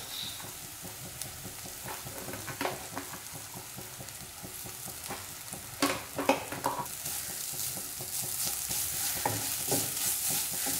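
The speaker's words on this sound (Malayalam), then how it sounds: "നാളികേരം ചുരുക്കിയത് ചേർത്തതിന് ശേഷം നന്നായിട്ടൊന്ന് മിക്സ് ചെയ്തെടുക്കാം" Grated coconut is stirred into onions frying in a pan for carrot thoran, with a steady sizzle under scattered scraping and stirring clatters from a spoon, close and moderately loud.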